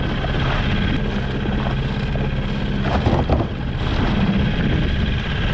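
Strong wind at sea buffets a fishing boat in rough water off Half Moon Bay. The roar is broad and continuous, with microphone buffeting and an engine drone underneath, and occasional thumps as waves hit the hull.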